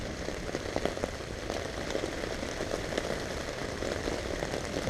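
Steady rain patters on surfaces during a thunderstorm at a hunting lease cabin, a dense even hiss with scattered drop taps and no distinct thunder clap.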